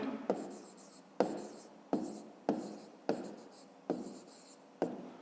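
Pen writing numbers in a school maths notebook, about eight short scratchy strokes in an uneven rhythm, close and quiet against a silent room.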